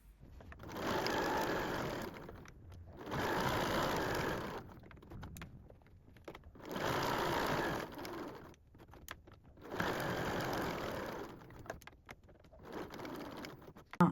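A sewing machine stitches a fabric baby wipe in several steady whirring runs of a few seconds each, separated by short pauses, close and fairly quiet.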